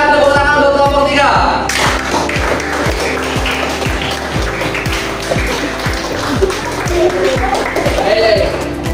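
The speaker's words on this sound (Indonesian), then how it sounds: "Berikan tepuk tangan untuk kelompok 3" Classroom applause for a student group, a busy stretch of many claps that swells and carries on steadily for several seconds, with voices heard over it.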